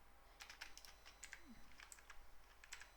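Steady, light keystrokes on a computer keyboard as code is typed, a quick irregular patter of soft clicks close by against a quiet low hum.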